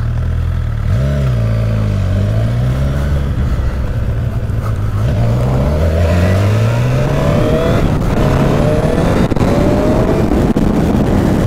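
A Suzuki GSX-R motorcycle pulls away and accelerates, its engine note climbing through rising revs and gear changes, loud and close with wind noise buffeting the microphone.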